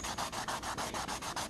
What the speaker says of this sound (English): just keep sanding until all those shiny spots are dull